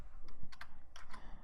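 Quick clusters of keystrokes tapped on a computer keyboard, close and quiet, in short uneven bursts with brief pauses between.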